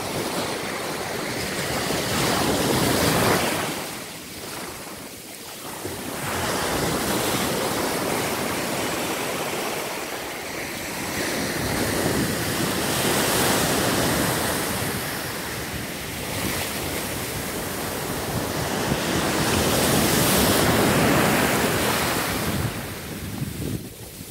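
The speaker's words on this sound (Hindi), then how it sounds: "आइए समंदर के दर्शन करें।" Sea waves at the beach, surf rolling in and washing out in slow repeated surges with wind rushing across the microphone, steady and loud with no voices.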